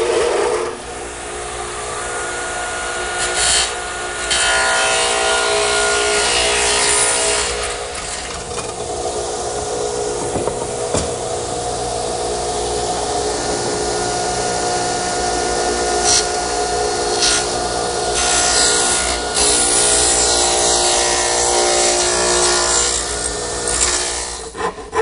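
A dovetail saw notches the bottom of a wooden tenon, a continuous close rasping stroke sound running throughout with a few brief sharper knocks, no talk.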